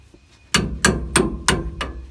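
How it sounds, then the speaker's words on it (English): A screwdriver taps brake hardware off the steering knuckle of a 2004-2008 Ford F-150 during rear brake work: five sharp, evenly spaced metallic knocks, close and loud, with no talking. "Just use a screwdriver and you can tap up on it. That'll pull it straight off."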